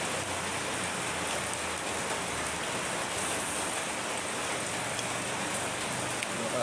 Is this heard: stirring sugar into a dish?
no